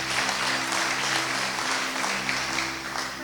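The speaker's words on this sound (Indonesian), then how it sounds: "Tepuk tangan dulu" A church congregation applauds during a Sunday service, a continuous, even burst of many hands clapping that fills the room and tapers a little at the close.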